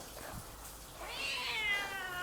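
A paralysed kitten meows once in a drawn-out, rising and falling cry, close by, over a low background hum.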